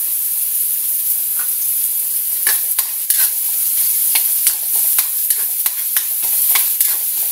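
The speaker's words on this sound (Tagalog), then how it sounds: "Inilagay ko na yung ating bawang sibuyas. Maglagay ako ng konting mantika lang." Garlic and onion sauté in a little oil with a steady, close sizzle, broken by clicks and scrapes as a utensil stirs the pan. No one speaks.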